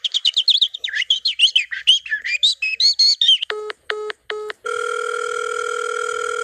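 Rapid bird chirps and tweets in quick bursts, followed by a few short telephone-style beeps and then a steady dial tone, with no voices.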